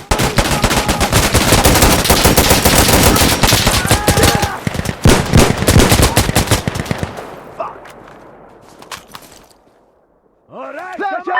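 Sustained automatic fire from an AK-12 rifle in the shooter game Insurgency Sandstorm with the ISMC mod, loud rapid bursts for about seven seconds that thin into scattered shots and echoes, then near silence before a brief voice.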